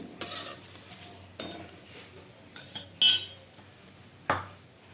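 Panch phoron and dried red chillies fry in a pan while a metal spatula scrapes and taps against it in a handful of sharp, separate strokes over a faint sizzle.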